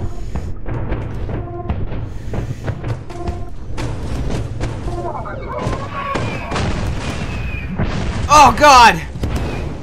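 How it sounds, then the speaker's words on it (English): Missile blasts and booming impacts in Lethal Company, a steady run of thuds and bangs beneath frantic speech, with a louder burst of explosions near the end. "Missiles everywhere!"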